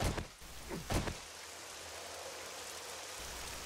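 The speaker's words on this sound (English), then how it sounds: "Still raining out. Does it ever stop raining in this thing?" Steady rain falls in the survival video game 7 Days to Die, a dense, even hiss of drops holding constant throughout with a couple of brief louder bursts near the start.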